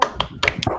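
A group performs the 'tepuk semangat' cheer, clapping hands in a short rhythmic pattern of crisp, separate claps at close range.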